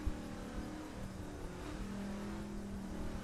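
Car in The Crew cruising on a drive from San Francisco to Seattle, a low steady engine hum with a faint rising tone, continuous and moderately quiet with no talk over it.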